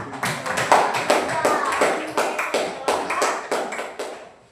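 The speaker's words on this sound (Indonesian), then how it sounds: "tepuk tangan dulu buat kelompok" Rhythmic group clapping in a school classroom, a couple dozen sharp, fairly loud claps in a steady unison beat, with children's voices mixed in underneath.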